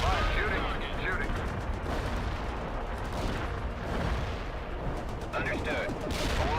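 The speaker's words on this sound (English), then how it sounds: "Artillery firing." Artillery firing in the World in Conflict strategy game, a dense barrage of booming shots and rumbling blasts over a continuous battlefield din, with brief radio-style voice chatter mixed in.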